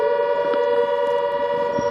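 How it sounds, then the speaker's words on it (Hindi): Air raid siren sounding during a drone alert, a steady, sustained tone held without a break and heard through what seems a broadcast feed, with faint background noise beneath. "सायरन की आवाज हम प्रेमदान सुन पा रहे हैं"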